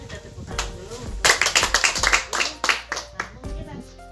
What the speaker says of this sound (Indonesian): Kita tepuk tangan dulu untuk